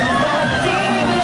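Concert crowd cheering for a singer as she performs a song: a dense, steady roar of screams and yells, loud and continuous.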